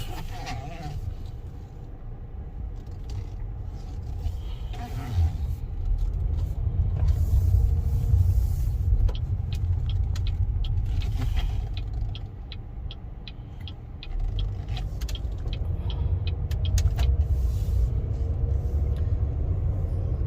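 A 2019 Buick Encore in preferred trim drives along, its steady low engine and road rumble swelling and easing in waves, with faint cabin ticks and rattles and no talking.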